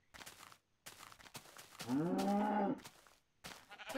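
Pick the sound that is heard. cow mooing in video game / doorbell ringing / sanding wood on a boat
cow mooing in video game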